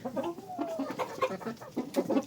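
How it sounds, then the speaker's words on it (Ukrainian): A handsome rooster clucks in a backyard coop, giving a few low, soft clucks and short throaty calls in a quick, uneven rhythm, close by and moderately loud, with no talk over them. "Півень красунчик."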